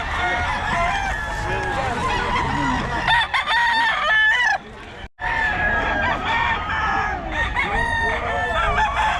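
At a roadside market, chickens and roosters cluck and crow in a dense, noisy chorus close by. Repeated loud crows rise over the flock, with people talking in the background.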